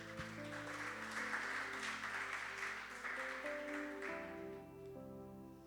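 Church congregation clapping for the Lord during a Spanish-language sermon, a soft broad patter of many hands mixed with sustained music tones, fairly distant and quiet, thinning toward the end.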